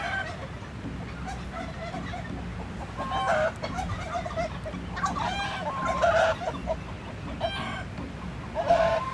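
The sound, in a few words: chickens and turkeys clucking on a farm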